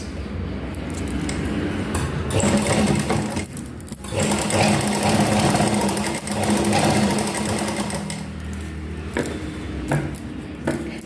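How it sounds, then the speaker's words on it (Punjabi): Sewing machine stitching a front neckline on a garment, a loud, continuous rapid mechanical chatter up close that briefly slows near four seconds, then keeps running steadily. "ਆ ਦੇਖੋ ਹੁਣ ਅਸੀਂ ਬਿਲਕੁਲ ਇਹਦੇ ਨਾਲ ਨਾਲ ਸਿਲਾਈ ਲਗਾਵਾਂਗੇ"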